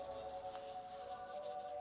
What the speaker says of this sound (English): take one of these mini fine wheels and just rub it across the whole part like this to make sure it's got an even, nice finish